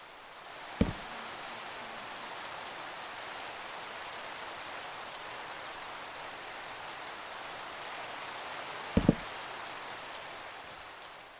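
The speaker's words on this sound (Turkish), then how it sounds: "Yağmur da yağıyor zaten." Steady rain hisses evenly through a quiet night scene in a building video game, a soft constant wash broken only by two brief sharp clicks near the start and end.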